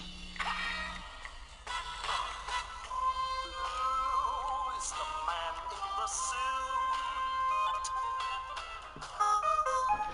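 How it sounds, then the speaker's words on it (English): A phone ringtone plays a continuous electronic melody for about ten seconds, fairly quiet and steady, with no talking over it. "God damn it, phone!"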